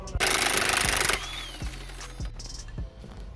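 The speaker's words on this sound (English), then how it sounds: "now I can just whiz them off with a gun" A pneumatic impact gun rattles loudly for about a second while spinning off shock absorber nuts on a 2007 Chrysler Voyager, followed by quieter clanks and tool handling in a garage.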